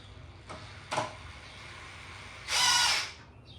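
A power drill whirs in one short burst near the end while driving screws into a wooden workbench, following two sharp knocks of wood, in an otherwise quiet workshop.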